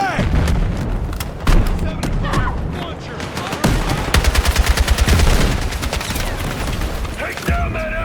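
Dense gunfire and artillery in the Battlefield 6 campaign during a city assault: rapid machine-gun bursts, sharp shots and heavy booms stacked loudly together, with shouted voices mixed in.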